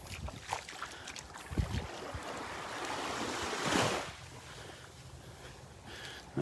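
Gentle waves washing in steadily on a beach in North Naples, Florida, with one louder surge swelling and fading midway, over a soft background rush of wind.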